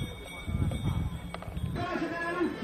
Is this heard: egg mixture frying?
no